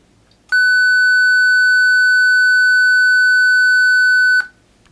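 A high sine-wave test tone holds a single loud, steady pitch for around four seconds, starting and stopping cleanly against near silence.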